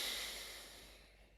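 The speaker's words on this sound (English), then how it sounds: "Rhythmic yogic breathing. Exhale completely." A single slow exhale in rhythmic yogic breathing gives a soft, airy hiss close to the ear that fades away over about a second and a half.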